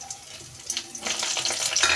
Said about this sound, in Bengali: শুকনো মরিচগুলো আমি ভালোভাবে নেড়েচে ভাজা ভাজা হয়ে আসা পর্যন্ত কিন্তু অপেক্ষা করব